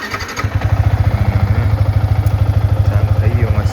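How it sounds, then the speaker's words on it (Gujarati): A motorcycle engine cranking and catching, then settling into a loud, close, rapid rhythmic putter at idle, with a voice speaking just before it fires. "ચાલુ કરું બાઈક હવે."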